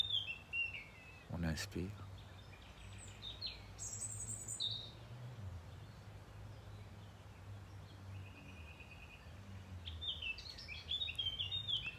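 A wild bird chirps and sings in short bright phrases outdoors, some near and clear, others faint, while a calm voice speaks softly in between.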